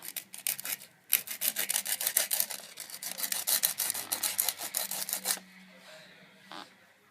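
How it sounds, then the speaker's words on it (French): A small wooden stick being sanded with sandpaper while crafting a realistic candy apple gives rapid, rhythmic rasping strokes, close and crisp, stopping abruptly before a quiet tail and one faint touch. "on va venir le poncer donc avec notre papier de ponçage"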